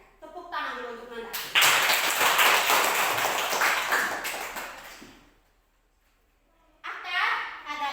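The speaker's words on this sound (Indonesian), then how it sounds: "tepuk tangan dulu untuk Nanda." Children clap in an elementary classroom, first a few scattered claps, then a loud burst of many small hands for several seconds that fades out into silence before a voice is heard speaking.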